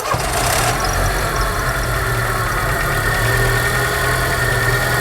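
A cold car engine cranks briefly and catches, then settles into a steady, rumbling idle close by, with a noticeable engine noise.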